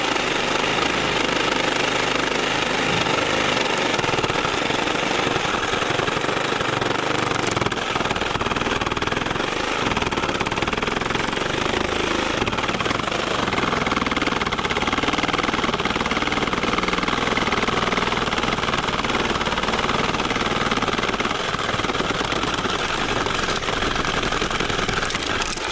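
A Porter Cable 18V reciprocating saw cuts slowly, its blade chattering in a continuous, rough, rapid buzz for the whole stretch with no letup, loud and close, no voices.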